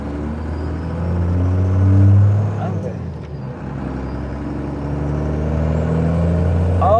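A truck drives along with a steady low engine rumble that swells into a louder surge as it accelerates, then settles back to a constant road drone, with a brief spoken word over it.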